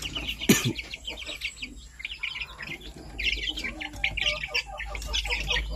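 Young stag roosters and chickens of a Dumpo gamefowl line on a farm give steady, fairly close chirps and clucks throughout, with one sharper call near the start and no talking.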